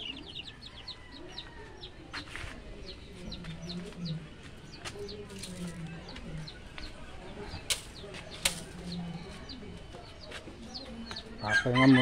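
Chickens cluck steadily at close range, with soft bird calls and occasional wing flaps, plus a louder burst of clucking near the end.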